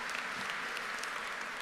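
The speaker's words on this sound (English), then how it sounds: "Can we get a round of applause for everybody?" Graduation ceremony audience applauding for the graduating class, a steady wash of clapping that stays even and moderately distant through the whole short stretch, with no voices standing out.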